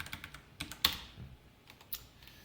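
Sparse computer keyboard keystrokes while writing Spring Boot code, a few light clicks and one sharper tap spread out over quiet room tone, close and faint.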